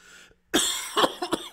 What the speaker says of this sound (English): I get the cough sometimes. I can't get rid of it.